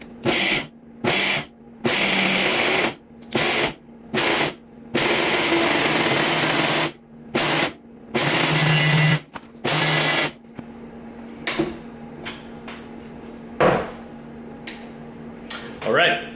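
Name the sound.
blender blending smoothie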